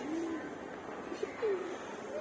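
Several soft pigeon coos, low and rounded, come in short separate phrases over a quiet background.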